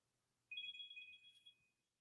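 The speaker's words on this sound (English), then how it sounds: "my phone is ringing" A mobile phone ringtone sounds once, a bright sustained electronic tone lasting about a second, heard faint and alone.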